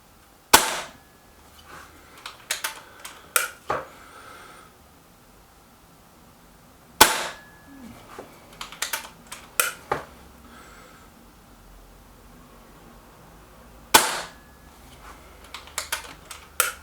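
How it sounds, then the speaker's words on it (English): A sub-12 ft-lbs .22 air rifle fires slugs, three sharp cracks spaced several seconds apart, each followed by a string of quieter mechanical clicks and clacks from reloading, in an otherwise quiet outdoor setting. "I think this will be the last slug now."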